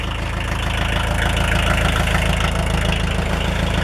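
A Kubota L345DT diesel tractor idles while warming up, a loud, steady low rumble with an even rhythmic chug that carries on alone.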